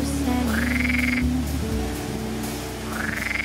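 Frogs croaking at the Lac du Pêcher in the Cantal, a steady low croak chorus with a few rising calls drifting over it, no voices.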